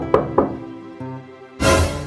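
A door is knocked on twice in quick succession, sharp close thuds over a quiet background tone, followed by a single softer bump and then a burst of louder noise.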